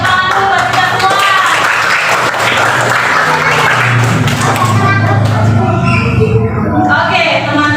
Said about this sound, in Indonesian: tepuk tangan dulu buat kita semua